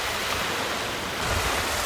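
Water rushing past the hull of a sailboat running dead downwind under full main and jib, a steady, close, broadband wash with no voices.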